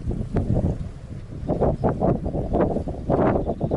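Gusty wind at a reservoir buffets the microphone in strong, uneven bursts, a rough roaring rush with no voices.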